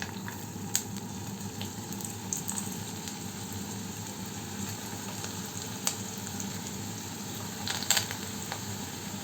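Potato rolls frying in hot sunflower oil over a low to medium flame, giving a steady soft sizzle and bubble with occasional small pops and crackles.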